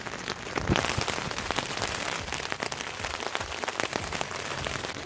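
Rain patters steadily on a tent pitched on a beach, a dense, close drumming of drops that holds its level throughout, with no voices.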